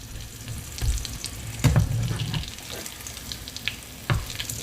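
Pork fried rice frying in a pan, a steady close sizzle with a few louder bursts of stirring and scraping, no talking.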